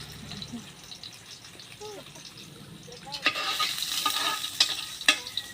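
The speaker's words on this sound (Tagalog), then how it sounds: "so magigisa na po ako ng bawang" Garlic sautés in a hot pan for pancit, a soft sizzle and stirring that grows louder and busier in the second half, with sharp clicks of a utensil against the pan.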